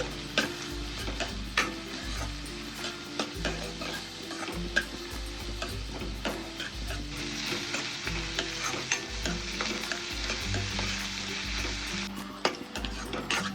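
Onion pieces fry with green chillies and curry leaves in a pan, a continuous dense sizzle layered with the regular scrape and tap of stirring, close and fairly loud throughout.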